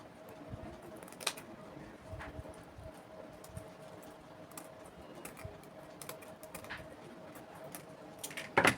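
Scissors snip through fabric for a pleated turban cap, making soft, quiet crisp cuts scattered across a low steady hum, with a louder rustle at the end.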